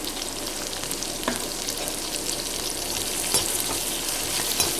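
Chopped tomato sizzles and fries steadily in a pan while it is stirred in with greens, a continuous hiss with scattered soft scrapes and clicks of the spoon, close and fairly loud throughout.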